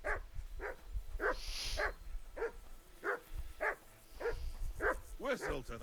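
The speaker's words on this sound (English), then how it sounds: "That barking was a pain in the ass." A dog barks repeatedly in Kingdom Come: Deliverance II, about ten sharp, evenly spaced barks at close range, a few quicker yips bunched at the end over low background ambience.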